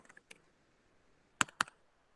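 Computer keyboard keys typed during an online database class, a few faint scattered clicks followed by two sharper, louder keystrokes in near silence.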